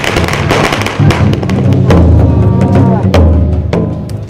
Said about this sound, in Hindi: पटाखे फूटे